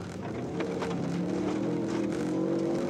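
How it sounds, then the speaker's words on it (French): A rally car engine at the 1993 Tall Pines Rally drones and shifts pitch as it downshifts through gears, a steady mechanical hum with slight revving changes. "On l'entend rétrograder, là, sans doute au deuxième rapport."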